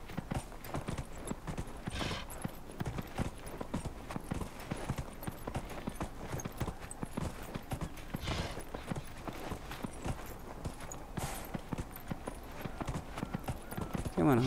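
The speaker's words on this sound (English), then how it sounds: "Come on, horse, I know you can move faster than that." A horse in Dragon Age Inquisition gallops along with rapid, rhythmic hoofbeats that run steadily throughout and come through clearly at moderate volume.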